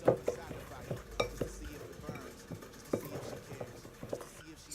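Vegan lentil and potato soup stirred in a pot, a spoon scraping and knocking against the pot in irregular, soft strokes, with faint kitchen noise beneath.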